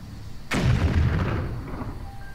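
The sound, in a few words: explosion in the video game Atelier Ryza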